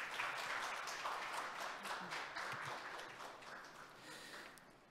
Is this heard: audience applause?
yes